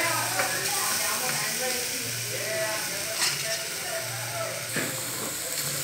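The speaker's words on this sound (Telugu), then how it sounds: "మీడియం ఫ్లేమ్లోనే వేయించుకుందాం క్యారెట్ హల్వా, క్యారెట్ తురుముని" Grated carrot frying in melted ghee over a medium flame for carrot halwa, a steady soft sizzle and hiss with a few scraping stirs, heard close alongside a speaking voice.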